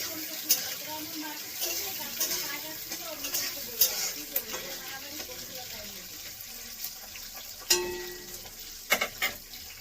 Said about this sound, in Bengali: এই যে এখানে আমি কাঁচা লঙ্কা রসুনটা হালকা করে ভেজে নেব